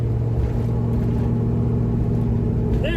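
Car exhaust with the cutout opened gives off a loud, steady low drone with strong harmonic bands, constant throughout at cruising speed.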